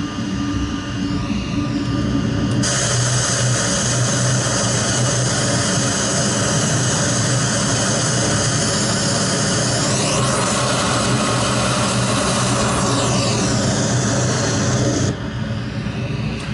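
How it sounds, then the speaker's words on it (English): Simulated Boeing 737 jet engines roar steadily and loudly throughout as reverse thrust is applied on the ground in a flight simulator game, a continuous broad rush with a rising whine partway through and no talk. "a little reverse thrust"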